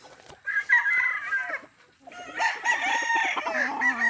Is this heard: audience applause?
no